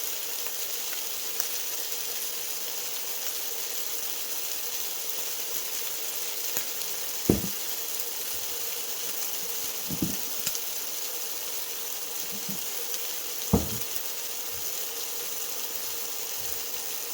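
Chicken fajita meat sears in olive oil with a steady, even sizzle that stays level throughout, broken only by a few brief low thumps and soft clicks.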